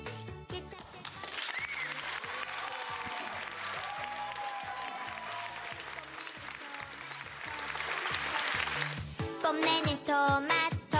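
Steady applause from a crowd of children at a church children's service fills most of the clip, with voices and music underneath, then ends in a few louder bursts.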